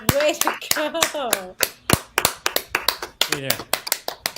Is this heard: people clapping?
yes